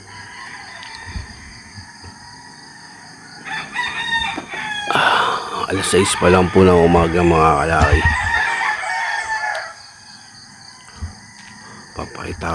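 Roosters at six in the morning crow in a loud burst of several overlapping calls, with clucking around them, while someone talks before and during the crowing.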